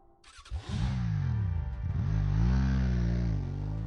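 A motorcycle in the game Hotline Miami starts with a short burst, then its engine revs up and holds a loud, steady drone with a slight rise and fall in pitch, alone without talk.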